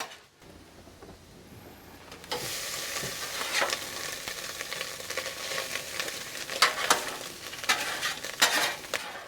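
Frozen hamburger meat fries on a Blackstone griddle with a steady close sizzle, broken by spatula scrapes and stirring clinks that grow busier after a quiet start.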